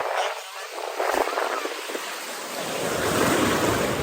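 Ocean surf washing onto the shore at Boracay beach, a steady broad rush that swells louder toward the end, with wind noise and faint voices in the background.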